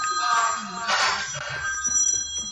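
A mother's phone rings loudly with a bright, repeating electronic ringtone that runs steadily for a few seconds while people talk quietly underneath.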